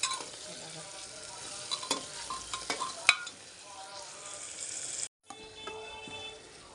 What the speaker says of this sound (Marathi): आपला कांदा फ्राय होत आहे